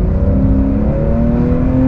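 Porsche 996 911 engine and intake noise under acceleration, a loud close steady drone with slowly rising pitch, no talk over it.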